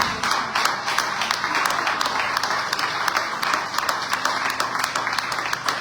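A church congregation applauds steadily during an evening service, with dense clapping sustained from start to finish.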